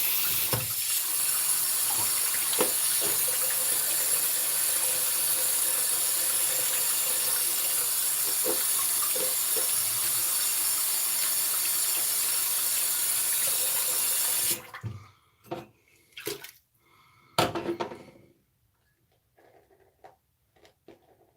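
Tap water runs steadily into a sink during a shave rinse, a loud continuous rushing that cuts off abruptly, followed by a few splashes and clinks before quiet.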